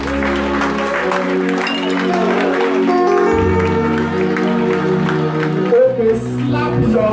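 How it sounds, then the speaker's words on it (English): A church congregation claps along during a worship service, rhythmic clapping and crowd voices mixing with loud keyboard and bass music that dominates the sound. "Put your hands together for the Most High God."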